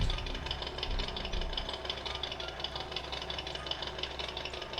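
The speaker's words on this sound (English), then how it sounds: "it'll start up the Fat Boy's engine and let it idle out" Engine idle from a toy Harley-Davidson Fat Boy motorcycle, a steady rapid knocking rumble looping evenly and fairly quietly throughout.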